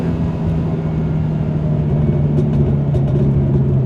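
A Toyota GR86 fitted with an XForce valved exhaust rumbles steadily at close range, with a few small crackling pops scattered over the idle.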